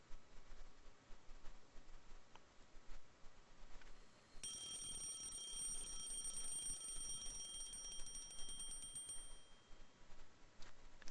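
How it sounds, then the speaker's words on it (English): A video game alarm clock rings out partway through, a bright rapid trilling bell that runs for several seconds over a quiet game background, then stops abruptly. "I shut off the alarm by reflex."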